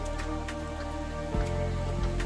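A mountain stream flowing under a bridge near a temple path gives a steady wash of water noise, with a low droning hum and a couple of brief knocks underneath.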